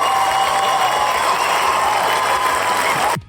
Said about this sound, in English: okay, we got a cheer for you.